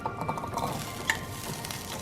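Green peppers sizzle quietly in a skillet next to just-cooked ground beef, with a soft continuous frying hiss and a light clink of stirring, with no talking.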